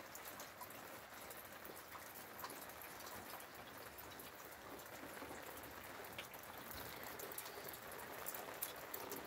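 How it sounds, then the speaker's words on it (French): Light rain patters steadily on the roof and awning of a parked camper van, a soft, even hiss of drops with occasional sharper taps, faint and continuous with no voices. "La petite pluie qui coule là, au-dessus, qui tombe."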